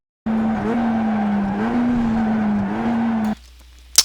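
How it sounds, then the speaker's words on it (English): Tires of a Mazda MX-5 in the iRacing simulator at Summit Point squeal under heavy braking: a loud, sustained, steady tonal screech lasting about three seconds, then cutting off abruptly. "You can see I brake just before it, and then it's heavy braking"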